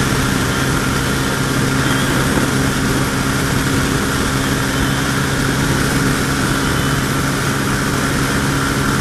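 Honda CB300 motorcycle engine at night on the road, a steady loud drone with constant low tones and broadband wind rush throughout, no talk.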